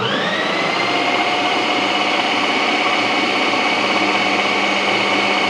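Kitchen mixer grinder blending fresh green coriander into chutney, a loud, steady high-pitched motor whine that holds unbroken from start to finish.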